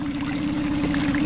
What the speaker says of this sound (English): Electric bilge pump, look at that.